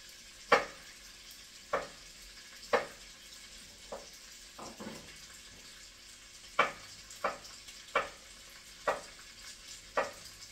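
Garlic sautés in butter and olive oil under a faint, steady sizzle, while a utensil scrapes and taps the pan in regular strokes about once a second.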